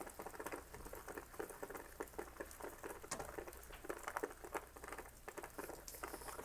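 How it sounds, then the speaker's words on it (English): Light rain falls with a faint, irregular patter of scattered drops ticking and crackling on surfaces nearby, quiet and continuous with no voices. "Fitting it rains on the last day we're here."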